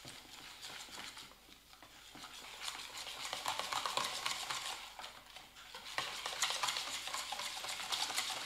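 Whisk stirring chickpea flour batter with water in a bowl, a busy, continuous scraping and swishing close up with no voices.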